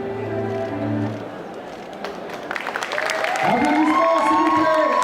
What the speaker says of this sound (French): Applaudissements s'il vous plaît pour Mitzi Cosplay en Cendrillon